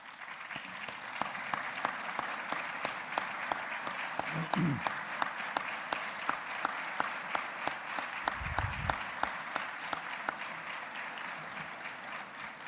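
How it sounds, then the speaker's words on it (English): Community salute event audience in El Paso applauding veterans and serving military, a long steady round of crowd clapping with a few sharper individual claps standing out and brief faint voices underneath. "stand up and get an applause from us here"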